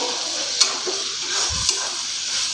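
Onion and poppy seed paste with green chilies stirred as it fries in a pan: a steady soft sizzle with a couple of brief utensil scrapes, close and moderately quiet, no talk.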